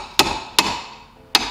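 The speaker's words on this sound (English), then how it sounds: "We're gonna use this and basically just hit them kind of evenly to help push them out." Three sharp metallic knocks on bolts of a Jeep Wrangler JL, close and loud, unevenly spaced, each ringing briefly before fading.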